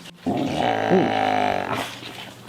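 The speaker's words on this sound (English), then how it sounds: "That was a good growl. That'll scare him." A timid dog lets out one sustained, fairly loud growl lasting over a second, rumbling low and steady before trailing off, with a brief soft sound near the end.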